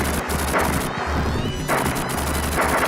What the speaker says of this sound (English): I do love how they have generic explosion sounds